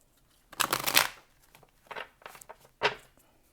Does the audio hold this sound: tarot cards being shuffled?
yes